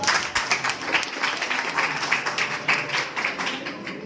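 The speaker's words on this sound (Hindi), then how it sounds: "जोरदार तालियां बजाते हैं" Audience applause after a student computer presentation at an institute, steady clapping from a room full of people for about four seconds, fairly close, with a faint voice or two underneath.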